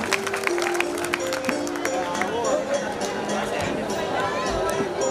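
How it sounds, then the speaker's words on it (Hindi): An audience at a staged drama performance claps loudly in a sustained burst of applause, with crowd chatter and a few clinks mixed in around it. "जोरदार तालियां इस परफॉर्मेंस के लिए।"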